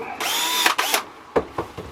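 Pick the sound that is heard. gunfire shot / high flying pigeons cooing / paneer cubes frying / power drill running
power drill running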